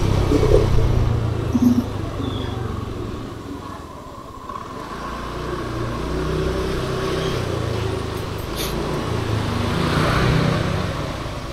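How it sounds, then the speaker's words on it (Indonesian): A car passes slowly along a narrow residential street in the Srigunting housing estate, Medan Sunggal, lined with parked cars, its engine a steady low rumble close by over ongoing street ambience. "Kita minggir dulu, ada mobil mau lewat."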